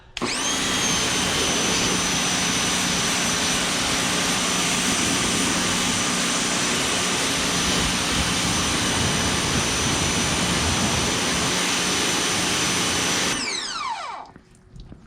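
A loud, continuous high-pressure hiss and motor whine of a Ryobi pressure washer roar steadily for most of the clip, then cut off abruptly near the end.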